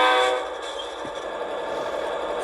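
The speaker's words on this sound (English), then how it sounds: "So these SD40-2s are one of my favorite locomotives" A model SD40-2 locomotive with a DCC sound decoder gives a brief horn-like tone over a low diesel rumble, moderately loud, with no talking.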